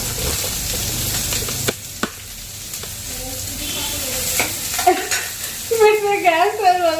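Chopped onion frying in oil with mustard seeds, cumin and curry leaves for a festival meal, a steady hissing sizzle with intermittent stirring clacks that grows busier toward the end, where faint voices come through.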